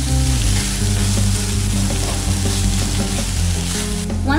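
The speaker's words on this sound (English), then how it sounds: "Saute for a couple of minutes until the onion turns soft and golden brown." Onion sautéing with ginger garlic paste, green chili and salt in a hot pan, giving a loud continuous sizzle over steady low hum, with faint tonal background music running underneath.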